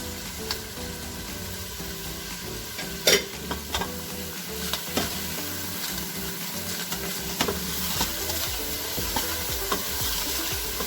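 Spices and garlic fry for beef paya in a hot pan, a steady close sizzle broken by occasional spoon scrapes and light clicks, with no talking.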